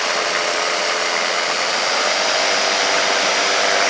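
A weightshift microlight aircraft engine running loud and steady, a broad buzzing drone that builds slightly in intensity as power is increased, with no talking.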